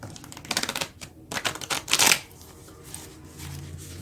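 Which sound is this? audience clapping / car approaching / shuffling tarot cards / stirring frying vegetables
shuffling tarot cards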